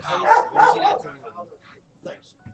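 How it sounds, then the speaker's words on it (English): A dog barks three times in quick succession, loud and close, then quieter, scattered sounds follow. "Can I please go inside with this so I can get away from the dog bark?"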